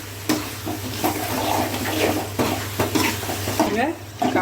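Pepper chicken with ginger and garlic being stirred in a pan: repeated scraping and shuffling strokes at an uneven pace over a constant low hum, fairly close.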